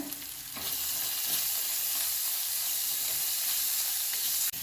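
Soaked lentils sautéing in a hot oiled pan with a spice mix and peanuts, a steady loud sizzle with faint stirring scrapes throughout, nearly unbroken from start to finish.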